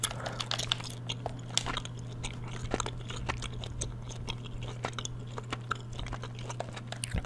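Gum chewing close to the microphone during Fortnite play, a steady stream of soft, moist smacks and crackles over a low constant hum.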